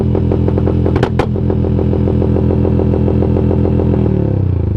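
An Aracer RC Mini X engine sound module plays a loud, rapid, rhythmic motorcycle-like engine throb with two sharp backfire pops early on, then the tone shifts near the end.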